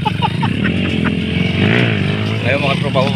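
Motorcycles being shown off outdoors in the Philippines rev and drone loudly with rising and falling engine tones, while someone talks excitedly over them.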